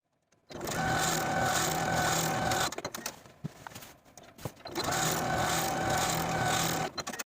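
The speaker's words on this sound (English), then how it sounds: "we're going to sew the pocket to its seam allowance from top to bottom, edge stitching close to that original seam" A sewing machine runs in two long, steady bursts while edge stitching a dress pocket to its seam allowance, with a short pause of small clicks and handling noises between the runs.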